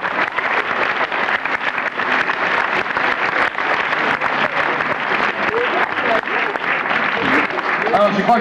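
An audience applauds throughout, a steady, dense patter of clapping that fills the whole stretch, with a voice faintly mixed in.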